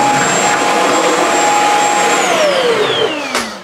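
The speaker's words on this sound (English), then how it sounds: "I'm extremely impressed with the performance of the Shark Stratos corded stick vacuum" Shark Stratos corded stick vacuum running steadily and loud while cleaning up spilled food such as oats and cereal, then its motor whine drops in pitch as it powers down near the end.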